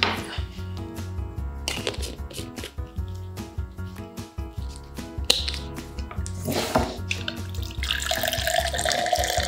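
Water pours from a Katadyn BeFree filter bottle, drawn from a mineshaft, in a steady trickling, splashing stream with clinking and handling noises, close and fairly loud.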